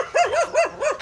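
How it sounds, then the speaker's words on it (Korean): Dogs at a holiday lodging bark in a quick run of four bright, yelping barks, close and loud, evenly spaced within about a second. "멍멍이야."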